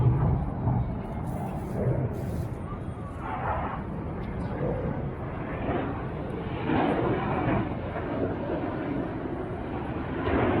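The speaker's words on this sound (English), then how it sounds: "I can see a green plane. Maybe these are F-16." A fighter jet passes overhead during a Qatar National Day celebration, giving a broad, continuous roar that swells and fades over about ten seconds, with crowd noise and scattered voices underneath.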